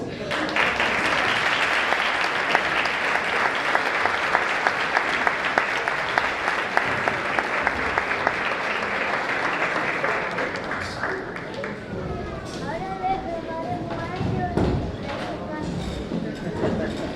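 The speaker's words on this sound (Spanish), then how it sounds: "Un aplauso." Audience applause at an Asturian Christmas music gathering, dense, steady clapping from a crowd that fades after about eleven seconds into murmuring and cheering voices.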